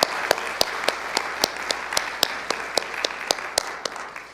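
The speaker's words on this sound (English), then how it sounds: "So a round of applause for them." A small audience at an organ concert applauds with sparse, evenly spaced claps that ring out at a steady rhythm.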